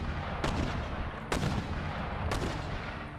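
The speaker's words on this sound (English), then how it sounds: "My mortars are making merry." Mortar batteries firing in the game Empire: Total War, three separate heavy booms spaced about a second apart over a constant rumbling battlefield din.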